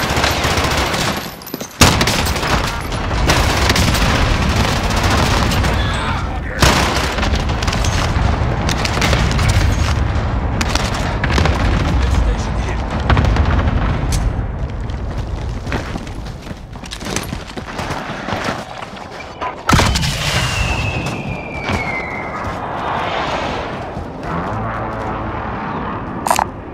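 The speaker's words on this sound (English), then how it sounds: "Allied cluster strike inbound." Cluster strike explosions in the video game Warzone: a rolling barrage of loud, deep booms mixed with rattling automatic fire, dense and sustained, with a brief whistling sweep near the end.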